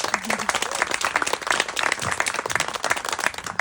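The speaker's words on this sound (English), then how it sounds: "One more round of applause." Applause at a Ukrainian concert: a dense, steady spread of clapping from the audience, fairly close and sustained throughout with no voices on top.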